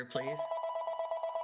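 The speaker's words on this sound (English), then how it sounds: "I'm sorry about my phone ringing." A mobile phone rings during a library board meeting with a steady trill of rapid repeating electronic pulses, fairly close. A brief spoken word comes just before the ringing starts.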